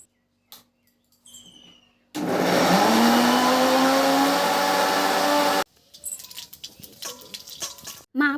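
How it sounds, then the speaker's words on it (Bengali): A mixer grinder blending spice ingredients roars loudly for about three and a half seconds with a rising whine, framed by quieter handling clicks and rattles before and after. "তো এই সমস্তটাকে এখন মিক্সচার করে নেব।"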